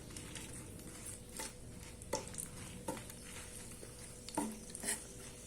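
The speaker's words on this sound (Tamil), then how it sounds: "இது மீடியம் ஃப்ளேமில் வச்சு இந்த மிளகாய் வறுத்துக்கலாம்." Dried red chillies fry over a medium flame in a pan for a spicy garlic chutney, a soft sizzle beneath repeated scraping stirs and a few sharper utensil knocks against the pan, close but fairly quiet.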